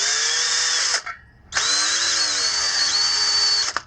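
A power drill whines at high speed boring a hole to fit a rim lock on a Sur Ron Light Bee electric dirt bike, one loud burst, a short pause, then a longer steady run with slight pitch wavering.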